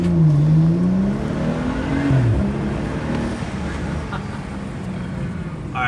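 A BMW M4 with its S55 engine pulls hard from first into second gear, the exhaust drone rising in pitch, dipping at the shift around two seconds in, then climbing again; a steady close roar throughout.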